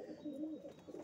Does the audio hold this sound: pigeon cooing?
yes